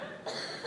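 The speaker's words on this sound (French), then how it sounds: "C'est que je tousse." A short, dry cough bursts out after a quiet moment, close and fairly soft, with a slightly breathy, throaty edge.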